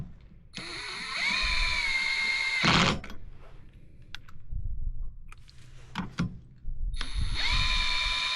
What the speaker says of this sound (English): Use this small gun just to run everything up on there and get it,